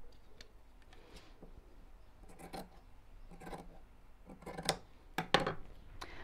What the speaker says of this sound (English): So let's trim this off here.